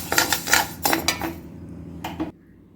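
Golden brown roasted rice being poured out of a pan into a vessel, heard as a few close bursts of grainy clatter and metal scraping with a short pause between them, then quiet.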